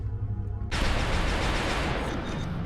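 Gunfire from heat ammo in the video game XCOM: Enemy Within lands as a sudden loud burst followed by a dense crackling roar that rolls on and gradually fades.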